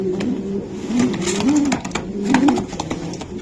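Racing pigeons coo close by, soft rolling throaty calls repeating in a steady rhythm over faint background noise and scattered rustling.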